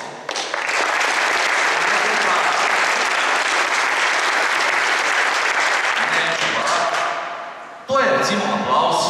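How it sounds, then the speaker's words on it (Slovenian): Loud, sustained applause from a New Year's reception audience in Ljutomer, dense clapping filling most of the stretch, easing slightly, then a brief renewed burst near the end. "Zdaj bi vas prosil za še en aplavz."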